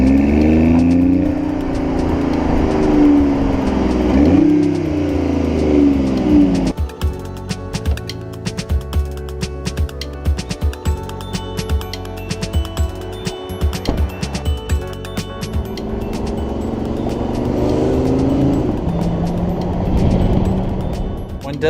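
A turbocharged 1.5-liter inline three-cylinder car engine rises in pitch, drops, then runs with mechanical clatter before revving up again, loud and close.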